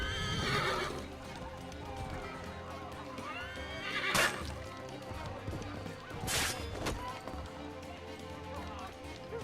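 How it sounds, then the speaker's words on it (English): A horse in the video game Assassin's Creed 3 whinnies loudly, and its hooves clip-clop among other game sounds. Two sharp crashing hits break through partway along. "Horse!"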